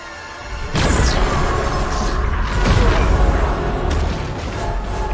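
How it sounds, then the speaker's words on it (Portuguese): Supergirl's heat vision blasting at a villain in a superhero movie scene, a sudden loud booming burst that keeps roaring with a rumbling, crackling energy for several seconds. "a Supergirl se enfurece e dispara sua visão de calor no vilão"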